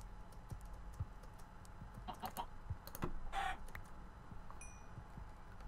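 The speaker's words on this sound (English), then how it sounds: "I just found like five more chickens." Minecraft chickens cluck in short, soft bursts at middling distance against a game background with keyboard clicks, several birds sounding intermittently.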